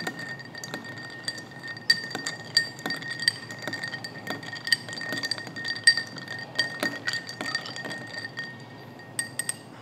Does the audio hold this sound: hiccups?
no